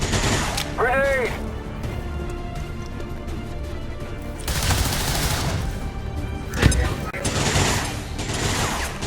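Rapid bursts of gunfire and crashing blasts from a grenade in the video game XCOM 2, loud and dense through most of the stretch, with a voice talking over parts of it.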